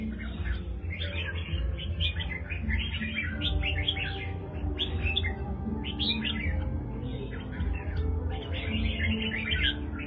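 Red-whiskered bulbul of a prized show-bird line singing steadily with rapid, bright chirping phrases in repeated bursts, close and clear over a constant low background hum, with no talking.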